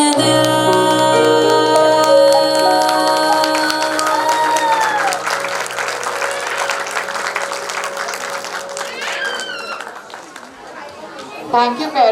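Parents clap and chatter at a preschool annual function while loud music keeps playing over the applause, and voices rise through the crowd noise before the music fades near the end.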